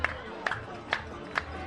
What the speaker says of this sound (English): and the crowd is hyped now